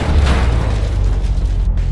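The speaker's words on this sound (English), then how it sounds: "And as you are driving through, the house just explodes." A house explosion sound effect, a loud deep boom with a rumbling, sustained low roar that lingers close and heavy for a couple of seconds, no speech.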